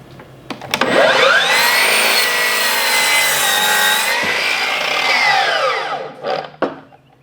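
A power saw rips through a cedar 2x4 board, a loud sustained whining buzz that starts with a few clicks, holds for about five seconds and then spins down, followed by a couple of short wood knocks.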